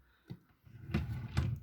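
A drawer in a reborn doll nursery is pulled open with a few short scraping knocks and a brief slide, heard up close in an otherwise quiet room.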